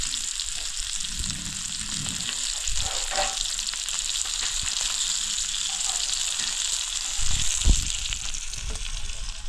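Mandeli fish fries in a pan over a wood-fired stove, sending up a steady hiss of sizzling oil broken by occasional louder pops and stirring knocks.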